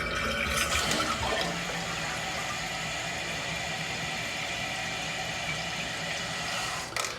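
Toilet tank refilling after a flush, a continuous hissing rush of water running steadily and close with no pauses, easing slightly near the end.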